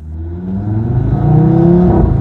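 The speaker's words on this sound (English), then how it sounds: "It has a 5-cylinder inline engine with 4 valves per cylinder." An Audi TT's five-cylinder inline engine with four valves per cylinder revs up, its tone climbing steadily and growing louder, close and alone with no talk.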